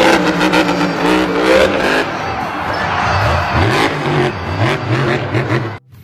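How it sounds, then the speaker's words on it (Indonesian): A toy monster truck's engine sound revs loudly and steadily for several seconds, rising and falling in pitch, then cuts off abruptly at the end. "Mobil truk monster, teman-teman."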